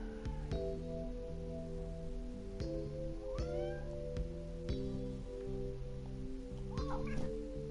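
A cat in the video game PantsuHunter meows several times at irregular intervals over a sustained, chord-like game music bed, the calls moderately loud and close.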